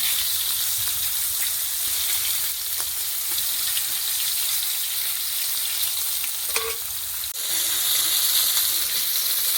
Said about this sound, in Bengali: মাছটা একটু ভালো করে ভেজে নেব।